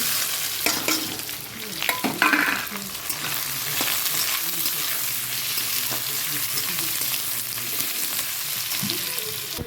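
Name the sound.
chopped onion added to a pan and frying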